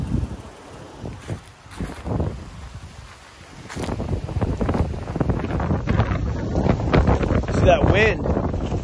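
Strong wind gusting across an open microphone outdoors at an apartment complex on a cold winter day, a steady buffeting roar that builds louder through the second half, with some speech-like sounds mixed in.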